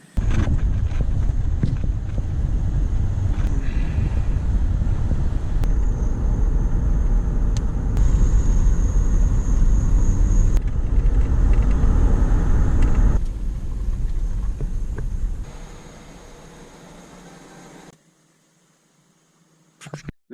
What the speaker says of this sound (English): I'm going to have to hop in my car